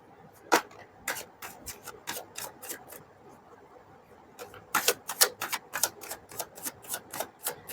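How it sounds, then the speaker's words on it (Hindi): Tarot cards shuffled by hand in repeated bursts of sharp, crisp riffling clicks, close and fairly quiet, with a short pause midway before a denser run of snaps. "आई नो कि कार्ड की सफलिंग थोड़ी सी बोरिंग जैसी लगती है लोगों को"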